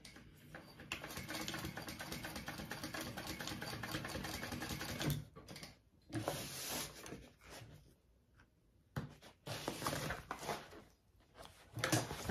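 A sewing machine stitches a loop onto a backpack in rapid buzzing bursts, running steadily for several seconds and then in shorter runs with quiet pauses between.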